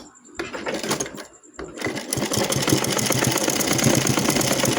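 A sewing machine runs steadily along a marked line, stitching the hem of a pajama leg cuff, a continuous close mechanical whir after a couple of brief starts and stops at the beginning.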